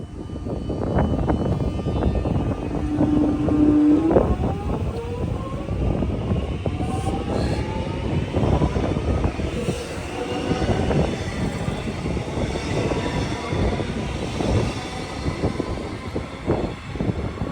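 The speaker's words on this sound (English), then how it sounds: "the trains are crossing over back onto double track Formation Manor." Trains crossing over from single onto double track, a rumbling passage with repeated rhythmic wheel clatter over points and a brief squeal, fairly close and continuous throughout.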